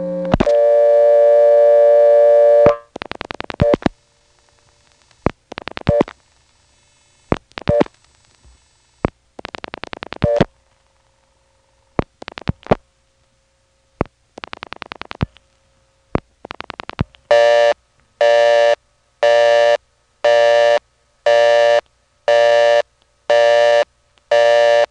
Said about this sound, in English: I'll dial my own phone number,